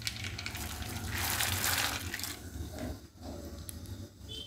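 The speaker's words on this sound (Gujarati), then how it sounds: "તો આમાં આપણે આ પાસ્તા નાખી દઉં" Washed pasta tipped into very hot water in a pot for Gujarati masala pasta, making a soft gush and splash that swells for a second and then settles into a quieter watery bubbling.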